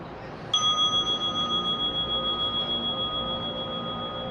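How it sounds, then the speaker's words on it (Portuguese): A single meditation bell struck once, ringing out with a clear sustained tone that slowly decays over several seconds, alone against a quiet background. "inicia com o toque de um sino"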